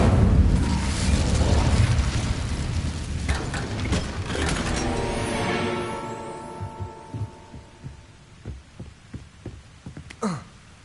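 An Incendio fire spell cast in Hogwarts Legacy erupts in a heavy, roaring whoosh that swells and then fades into a low throbbing hum, followed by scattered crackles and small impacts.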